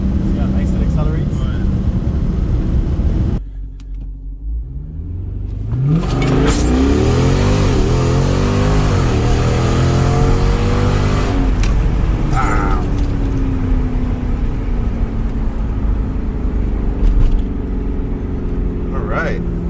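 An SRT car revs hard and accelerates from inside the cabin, the engine note climbing through gear changes after a brief drop in level, loud and close, with a voice speaking over it.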